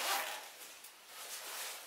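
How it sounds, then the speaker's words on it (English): Zips at the bottom of Patagonia Backcountry Guide Pants being worked, a short, close, bright rasping pull lasting under two seconds, with no talking. "zips at the bottom,"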